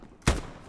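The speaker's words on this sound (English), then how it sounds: "Stop shooting at me." Single sharp gunshot in the World War II shooter game Hell Let Loose, a loud close burst that quickly fades into a lingering tail, with no talk.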